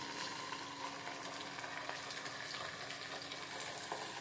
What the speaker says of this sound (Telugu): ఇదో కరివేపాకు, అలాగే కొంచెం అల్లం పేస్ట్ కూడా వేస్తున్నాను